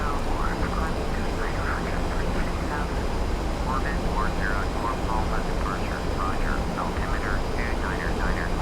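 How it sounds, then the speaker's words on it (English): Jet airliner taking off in the Prepar3D flight simulator, a steady, even engine roar that holds without a break, with faint voices underneath. "Well, it looks like there's a jet just taking off."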